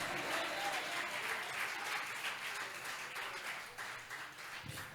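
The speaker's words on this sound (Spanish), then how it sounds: "Dele fuerte ese aplauso al Rey de Reyes y Señor de Señores" A church congregation claps loudly and steadily for about five seconds, a dense wash of applause filling the room with no voice over it.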